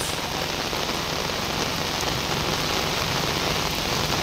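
Heavy rain pouring down steadily during a flood, a dense, loud hiss of drops drumming on a surface, continuous and unbroken with no voices.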